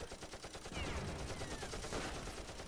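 Rapid bursts of gunfire and machine-gun rattle from the Close Combat wargame on the Kharkov front, sustained and dense but fairly low in level, with no talk.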